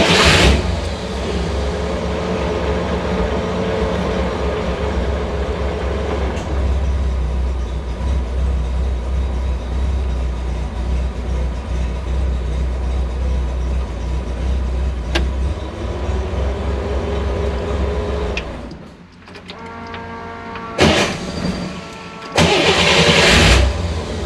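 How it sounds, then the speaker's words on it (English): An electric in-tank gear rotor fuel pump in a car drones with a steady mechanical whir and hum for a long stretch, then cuts out and is followed by a few brief clunks and bursts of noise. "have the electric in-tank gear rotor style pump on this car."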